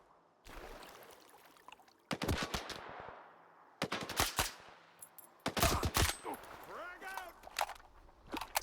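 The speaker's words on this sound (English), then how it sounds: "Where are they shooting me from?" Gunfire in S.T.A.L.K.E.R. 2: Heart of Chornobyl comes in several loud bursts of rapid automatic shots, with quieter gaps and echoing tails between them and a faint ringing whine near the end.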